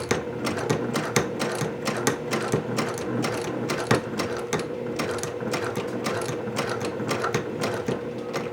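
A sewing machine stitches a curved seam on a Village Courier Bag, running in a steady, rapid mechanical chatter with slight variations in pace as the fabric is turned. The sound is close and continuous, with no voices.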